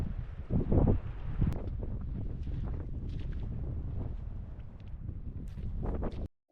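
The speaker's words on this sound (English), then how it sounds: "It's starting to get a little bit cooler, and that wind doesn't help either." Gusty wind buffets the microphone beside a mountain lake near a failed dam at sunset, with a low, steady rumble rising into stronger gusts near the start before cutting off abruptly.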